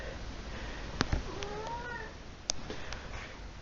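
A pet cat gives a few short meows indoors, moderately close and fairly quiet, against faint room noise with no talk.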